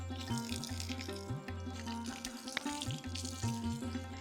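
Cool, clear water runs steadily at a temple over 600 years old, making a quiet trickling flow with soft splashes and drips nearby and no voices.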